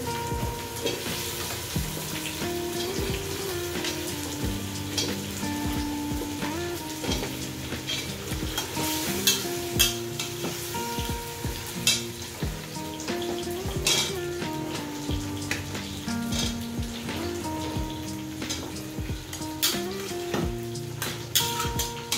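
Winter vegetables sizzle in a pan as a metal spatula scrapes and clinks against it in frequent, uneven strokes, close and continuous throughout with no talking.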